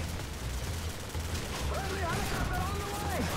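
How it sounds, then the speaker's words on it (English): Explosive airstrike barrages rumble and crackle continuously in a Call of Duty 4 multiplayer match, a dense layer of gunfire and blasts with no quiet gaps, while a voice talks over the noise throughout. "There we go, we got another airstrike."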